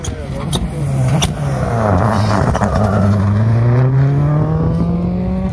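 An R5 rally car pulls away from the start at Rallye Šumava, its engine rising through loud, close revs with several gear changes over roughly five seconds.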